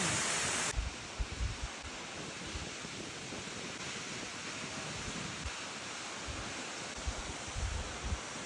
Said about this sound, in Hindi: मेरे बिल्कुल ठीक पीछे आप देख रहे हो वाटरफॉल, ये है आपका वसुधारा भाई साहब।